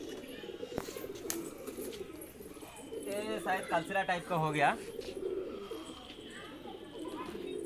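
Tippler pigeons coo in a loft in Andhra, soft rolling calls under and between a man's speech, with a louder burst of cooing in the middle.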